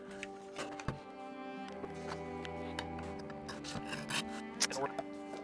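A knife blade scrapes back and forth on the extra coarse side of a whetstone, a quiet gritty rubbing with irregular strokes and a few sharper ticks.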